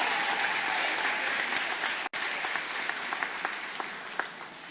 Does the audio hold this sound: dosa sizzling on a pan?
no